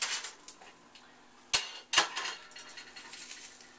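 An omelette is shaken loose in a pan, with a soft scraping slide and two sharp metallic knocks of the pan close together midway, then lighter clatter trailing off.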